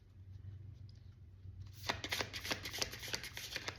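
Cards drawn and riffled from a deck, a quick run of crisp flicking snaps following a quiet pause, close and fairly soft.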